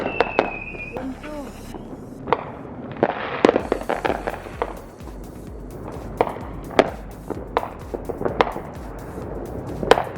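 Neighbours' Fourth of July fireworks go off in a residential area in Utah, a rapid irregular string of sharp cracks and bangs, some loud and close, others more distant, with a whistling rocket near the start.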